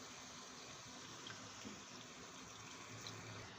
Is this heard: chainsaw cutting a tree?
no